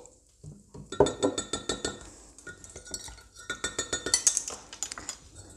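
A spoon stirring dark soy sauce and oyster sauce in a bowl for a black pepper pork chop sauce: quiet, rhythmic clinks and scrapes of metal against the dish, repeating in quick bursts.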